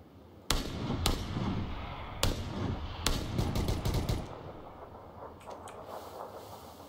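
Gunfire in PUBG: a few single loud shots, then a quick burst of rapid automatic fire, followed by fainter, more distant shots against a low background rumble, with no talking.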